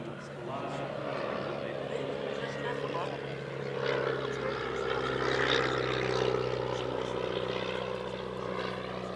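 A post-war Auster AOP-6 propeller observation aircraft built in 1946, with a larger engine and bigger propeller, drones steadily and fairly loud at an airshow, its engine tone swelling slightly midway, with voices under it.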